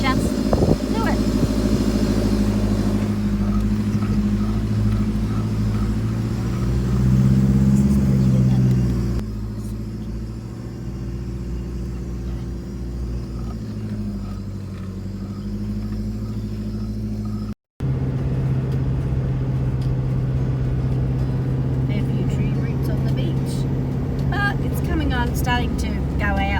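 A car drives along beach sand at low tide, its engine a steady close rumble with shifting drone and road noise throughout, while people talk over it.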